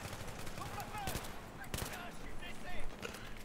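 A burst of gunfire rattles through a Battlefield 3 match: rapid shots crackle in a dense flurry over game ambience while a voice talks faintly underneath.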